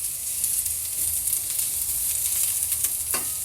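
Onions sautéing in oil left over from frying eggplant, a dense continuous hiss and crackle close up with faint stirring scrapes near the end, no voices.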